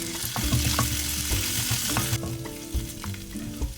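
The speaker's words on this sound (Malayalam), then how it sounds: "ആവശ്യത്തിന് ഉപ്പും കൂടെ ചേർത്ത് നന്നായിട്ട് വഴറ്റി കൊടുക്കാം" Sliced onions sauté with salt in a hot pan, a steady close sizzle broken by scraping stirs of a utensil against the pan.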